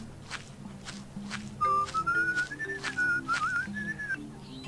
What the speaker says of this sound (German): Ach Gott, da ist dieser pfeifende Percy wieder.